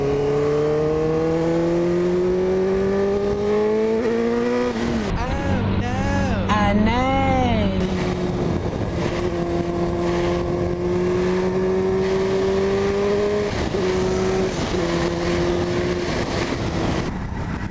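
Motorbike engine revving while riding, a loud, steady engine tone that climbs, dips and wavers through gear changes, with constant wind rush throughout.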